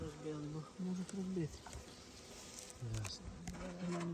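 Honey bees buzz steadily nearby at an apiary, their hum rising and dipping in pitch, with faint background noise and occasional clicks.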